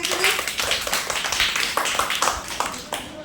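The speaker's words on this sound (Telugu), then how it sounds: "Very good. క్లాప్స్ కొట్టండి." Children clap together in a classroom during a Telugu word-reading activity, with several bursts of applause spread across the clip and a teacher's voice in between.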